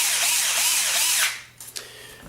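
A power drill drives screws into aluminum adjustable bumper grilles, whirring loudly and steadily for about a second before spinning down, followed by a couple of short clicks.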